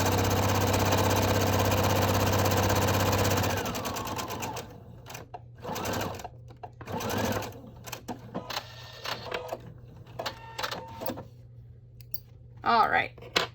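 A sewing machine runs fast and loud for a few seconds while stitching a face mask insert, then stops, leaving scattered clicks and fabric handling as someone talks.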